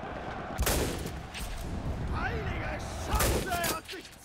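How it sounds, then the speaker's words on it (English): Gunfire in the World War II video game Enlisted, during an assault on the Kroll Opera House in Berlin: two sharp, loud bursts of shots over a rumbling battlefield background, with a voice talking faintly in between. "I'm under heavy fire. Well, it's not heavy, but it's still fire."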